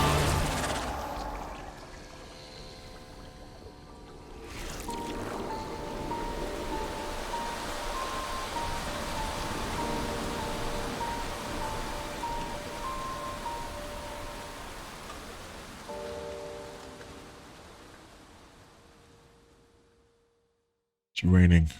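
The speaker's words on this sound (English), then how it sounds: "It's raining." Rain falling in Fontaine in the video game Genshin Impact, a soft steady hiss that swells after a few seconds and holds at moderate level, fading out toward the end before a brief burst of other sound.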